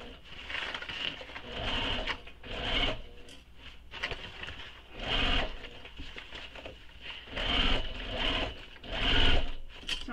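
Sewing machine stitching overlapping seams on a leather crossbody bag, several bursts of rapid mechanical whirring stopping and starting, heard close and moderately quiet.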